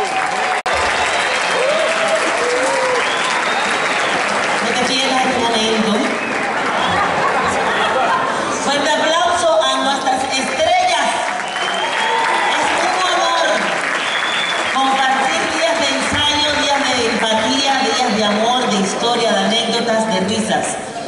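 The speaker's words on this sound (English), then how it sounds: "Let's hear a big round of applause for Lucrecia!" A concert audience at a salsa show at Lehman Center gives sustained, loud applause with cheering and crowd chatter throughout. An announcer talks over it.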